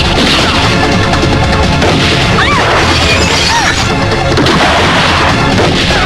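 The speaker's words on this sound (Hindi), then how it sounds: "यहाँ चारों तरफ गोलियां चल रही हैं" Gunfire and explosions fill a dense, very loud action scene from a Sunny Deol film, with continuous crashing bursts and booms alongside shouting voices.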